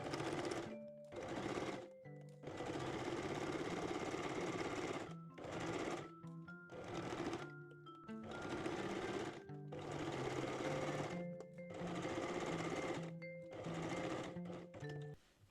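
A sewing machine stitches the side seams of jersey Brazilian panties in bursts of steady rapid whirring, stopping and restarting about eight times, close and alone.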